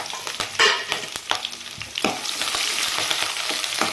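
Dried red chillies and green chillies hit hot oil in a pan and sizzle steadily, with crackling bursts and a few scrapes of a stirring spoon, close and loud.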